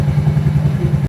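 An idling, faulty M3 motorcycle engine runs close by with a steady, uneven pulsing chug and a faint rattle, then cuts off abruptly.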